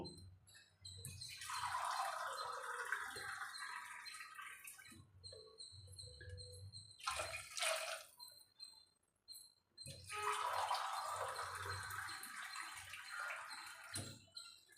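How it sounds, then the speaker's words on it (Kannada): Water is poured glass by glass into a pot for Uttara Karnataka-style uppittu, three distinct splashing pours with short pauses between, near and fairly quiet. "ಎರಡು ಎರಡೂವರೆ ಗ್ಲಾಸಷ್ಟು ನೀರು ಹಾಕೋತೀನಿ"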